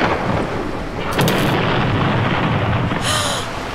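Thunder from a lightning strike in a cartoon Halloween scene, a loud, broad rumble that rolls steadily for several seconds with two brief crackling flares.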